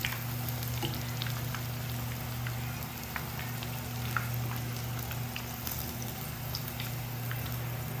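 Iftar snacks deep frying in a pan of oil, a continuous fine bubbling crackle with scattered pops, fairly quiet and even over a faint steady hum.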